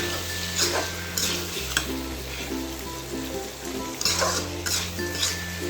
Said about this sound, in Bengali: আমি এখন ভাজা আলু আর বেগুনগুলো দিয়ে দিচ্ছি এর মধ্যে